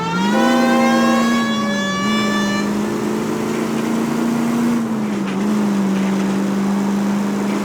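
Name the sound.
police car siren in a video game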